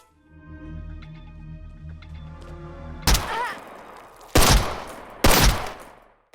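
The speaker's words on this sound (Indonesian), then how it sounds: "tanpa ragu Tom langsung menembaknya" Gunshots in a game scene: three sharp, loud blasts fired a second or so apart, each trailing into a rumbling decay, following a stretch of low tonal music and ambience.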